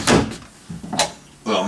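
A small medicine cabinet door in the bathroom of a 2016 Forest River Berkshire 38B diesel motorhome is handled, giving a few soft knocks and clicks between and under a man's nearby speech.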